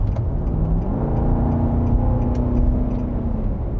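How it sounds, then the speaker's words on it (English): Nissan Patrol Warrior V8 engine running steadily in an off-road vehicle on all-terrain tyres, a loud, continuous low rumble from close by with a slight rise in pitch partway through. "I really do love the sound of that V8."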